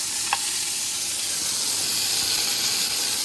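Food sizzles and hisses steadily in a frying pan as it burns at a carp-fishing lakeside camp, a constant close frying sound with one brief tap early on and no talk.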